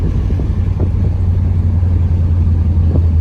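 A box Chevy with a mini spool and 4.10 gears cruises in high gear, its engine a steady, loud low rumble with a constant drone and no voices.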